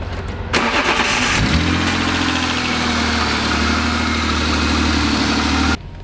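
A BMW E36 drift car cranks and fires up, then settles into a loud, rough idle that runs steadily close by before it cuts off at the end.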